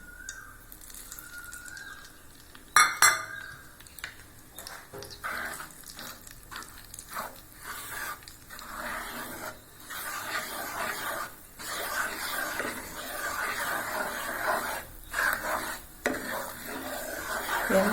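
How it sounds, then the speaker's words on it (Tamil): Wheat flour stirred into hot ghee in a pan for halwa: scraping, stirring strokes with a soft sizzle, one sharp clatter near the start, then steady close-up sizzling and stirring. "இப்போ நம்ம கோதுமை மாவை போட்டுடலாம்."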